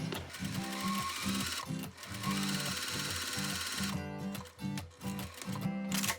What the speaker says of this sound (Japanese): でミシンでこの位置からウエストまでをステッチをかけて縫っておきましょ